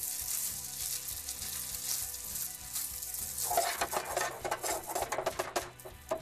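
Butter goes into a risotto pan and sizzles, first as a soft steady hiss, then as louder crackling and spattering with scraping stir strokes, close and without talk.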